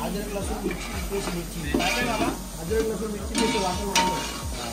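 Onion, oil, whole spices and ginger-garlic-chili masala paste fry and get stirred in a pan, a steady sizzle broken by scraping stirs, with talking over it throughout.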